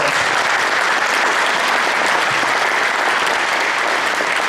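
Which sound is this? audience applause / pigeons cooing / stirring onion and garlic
audience applause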